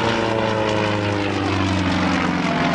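A Sukhoi Su-26 aerobatic propeller plane performing at an airshow, its engine droning loud and steady with a constant buzzing hum, close and uninterrupted with no voices.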